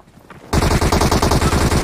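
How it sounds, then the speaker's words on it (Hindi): Loud automatic gunfire in a PUBG Mobile gunfight bursts in suddenly after a quiet moment, a rapid sustained stream of shots close and intense to the end. "अबे गन फाइट है प्रॉपर"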